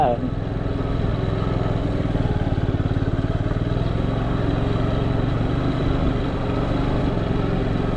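A motorcycle engine runs continuously with a rough, throbbing rumble, close and loud throughout, while riding a forest trail.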